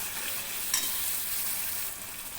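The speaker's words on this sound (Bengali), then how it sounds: "মশলা ভালো করে কষিয়ে নেব।" Ground spices with Kashmiri chilli powder sizzle steadily in hot oil in a pan for Bengali chicken kosha, a continuous bright frying hiss with one brief clink of a spoon, close and alone.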